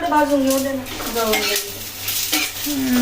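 Spiced masala frying and sizzling in a pan in a home kitchen, with steady sizzle, metal pan and utensil clatter from stirring, and brief voices talking over the cooking.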